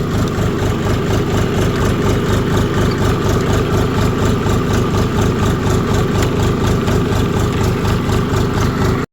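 A three-cylinder economy tractor engine idles steadily, its low, even chugging pulses loud and close, with no talk over it.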